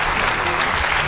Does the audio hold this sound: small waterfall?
no